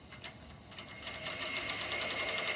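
An embroidery machine stitches applique fabric with a rapid, steady mechanical whirr and needle chatter that grows slightly louder and more even partway through.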